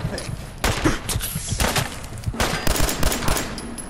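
Rapid bursts of gunfire from the video game Fallout 4, with several sharp volleys and sustained automatic fire clustered across the clip amid busy game noise.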